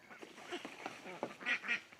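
Ducks quack and honk near a fresh bath of water in an October garden, with a string of nasal calls followed by two louder, sharper quacks at the end, close by and with no voices.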